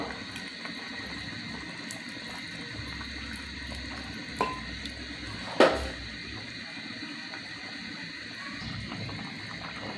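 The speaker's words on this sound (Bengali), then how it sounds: "ঝোলটা ফুটে গেছে এখন আমি টমেটোগুলো দিয়ে দিব" A pot of traditional Mymensingh-style shing fish curry broth bubbles in a steady, close simmering hiss, with a couple of brief clunks and splashes partway through as tomatoes go in. No one speaks.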